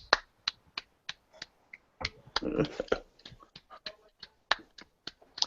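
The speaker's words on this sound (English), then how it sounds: "he actually will lift up his hands and start clapping" A single council member claps slowly and steadily, each faint, crisp clap spaced about half a second apart, with a brief swell of murmuring voices in the middle.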